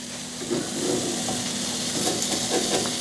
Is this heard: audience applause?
no